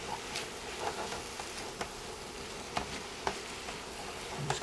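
Organic baby spinach sizzles and crackles in a hot pan as it wilts, a soft continuous frying hiss broken by scattered sharper pops and stirring clicks, close by and with no talk.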